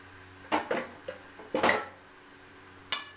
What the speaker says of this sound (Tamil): இந்த பாஸ்தாவை மேக்ரோனி இதில் நம்ம கொட்டிடலாம்.